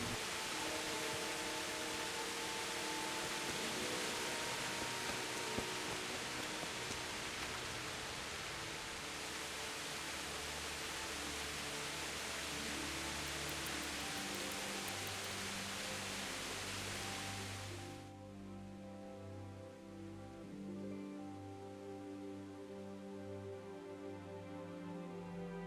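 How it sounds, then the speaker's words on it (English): Rain in Kingdom Come, a dense steady hiss of heavy downpour that continues without a break, then drops to a softer, darker patter partway through, with no voices. "Okay, it's raining. Still sounds relaxing."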